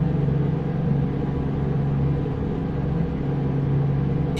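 Steady, loud drone of a 1971 Cummins Super 250 diesel truck engine with no turbocharger whine, cruising at a constant speed in American Truck Simulator, an even low rumble throughout with no talk.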